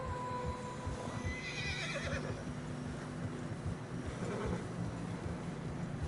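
In Red Dead Redemption 2, horses whinny and neigh close by over a steady clatter of hooves through fresh snow, with wind or movement noise underneath.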